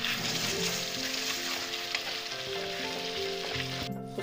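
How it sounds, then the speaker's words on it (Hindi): Ground black chickpea paste frying in hot masala in a pan, with a steady dense sizzle running throughout and faint background tones, no voices. "जो हमने चना जो ग्राइंड किया था वो पेस्ट हम इसी में डाल देंगे"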